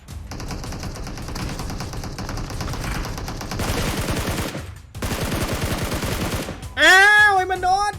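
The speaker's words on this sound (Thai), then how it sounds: "มีการยิงกันเกิดขึ้น" Dense automatic gunfire from a PUBG Mobile battle rattles on continuously for several seconds, pauses briefly, then resumes before a sharp, loud burst near the end, all close and loud with no talk over it.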